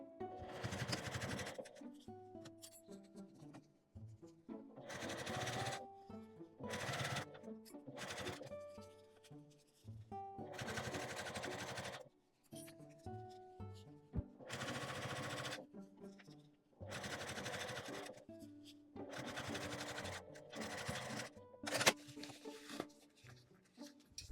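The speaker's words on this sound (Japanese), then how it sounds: "端から5ミリぐらいのところを縫います。" A sewing machine stitches a lined mini pouch for a bag about 5 mm from the edge, running in repeated loud bursts of rapid whirring stitches separated by short quiet pauses.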